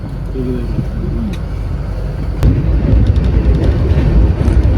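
The Madurai–Chandigarh superfast express rumbles past near Arakkonam with a deep, continuous roar that grows heavier halfway through, with faint rhythmic clatter from the wheels.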